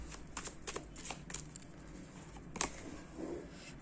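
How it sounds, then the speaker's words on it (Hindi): Tarot cards being shuffled and drawn from a deck, heard as soft, scattered riffling and slapping card sounds with a sharper flick near the end, fairly quiet and alone with no talking. "और एक कार्ड निकालूंगी।"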